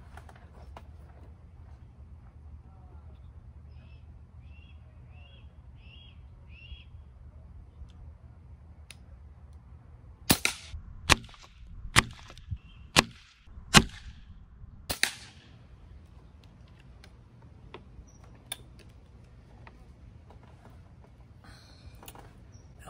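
Four sharp, loud air rifle cracks from a Brocock Commander XR .25 caliber fired on high power in a quiet outdoor spot, spaced a second or so apart, with a few fainter clicks after.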